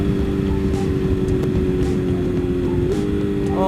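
A BMW S1000RR sport bike, Brentuned, roars steadily up close with a continuous engine drone, its pitch stepping near the end as the rider blips through downshifts amid rushing wind.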